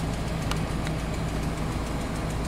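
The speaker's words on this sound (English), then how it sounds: "I can hear an exhaust leak, manifold leak." A 2004 Chevy 2500 Crew Cab truck engine idles steadily up close, a continuous low rumble with a faint, rapid ticking from an exhaust manifold leak running through it.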